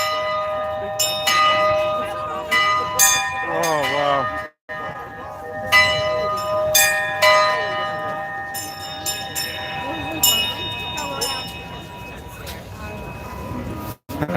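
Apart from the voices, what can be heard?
church bell ringing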